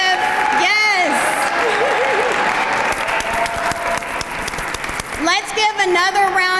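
Loud audience applause for a performer after a school production of The Wiz, a dense wash of clapping with crowd cheering, while an amplified voice speaks over it at the start and end.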